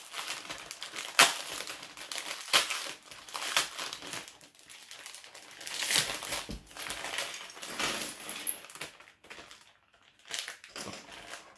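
Plastic packaging from a LEGO Minecraft magazine extra crinkles and crunches as hands tear it open, with irregular close crackling bursts and no voices.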